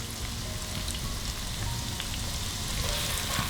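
Finely chopped shallot and garlic frying in a pan: a dense, continuous sizzle and crackle that stays steady and close throughout, with no talk over it.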